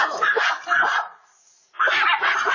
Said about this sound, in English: her dogs promptly began barking and alerted her to the situation